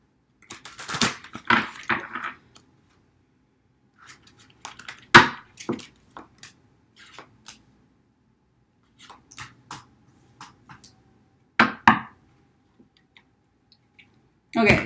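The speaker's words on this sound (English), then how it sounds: "One more shuffle for good measure." Intermittent papery riffles and flicks of cards being shuffled, in short bursts separated by quiet pauses, close up with a few soft clicks.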